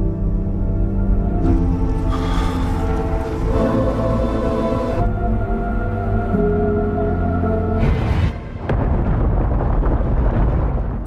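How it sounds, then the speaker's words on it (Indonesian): A deep, rolling boom swells and rumbles for several seconds, followed by a second heavy burst of low, crackling roar. "Suara gemuruh ledakan itu juga terdengar sampai ke silo 17, di mana Juliet dan Jimmy"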